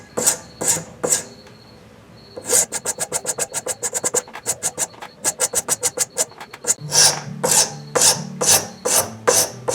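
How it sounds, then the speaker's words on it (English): A hand file rasps across a wooden crankbait fishing lure in quick, rhythmic strokes. A few slow passes are followed by a rapid run of short scrapes, then heavier, steadier strokes, all close and distinct. "now I got some filing to do"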